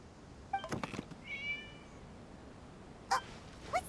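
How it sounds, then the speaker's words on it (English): A cat meows in Genshin Impact, a few short, clear mewing calls spread across a quiet stretch with soft background ambience and no talking. "It was just a cat."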